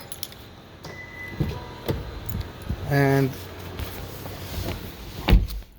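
Someone gets into a Honda CR-V Hybrid, with keys jangling, soft clicks and rustling, then a short buzzing whir from the door or window mechanism and a thump, heard alongside a brief spoken word.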